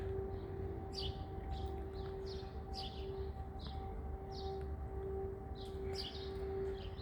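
A steady, continuous air raid siren drones on at a distance in Dnipro, with birds chirping intermittently over it in an otherwise quiet outdoor setting.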